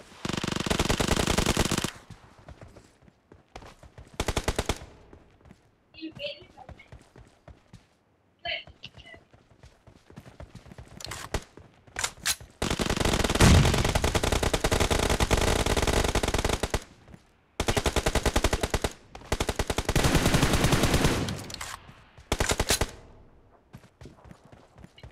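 Shotgun fire in the PUBG Mobile video game arena, loud dense bursts of blasts alternating with quieter stretches, brief clicks and whispered voice, close and harsh.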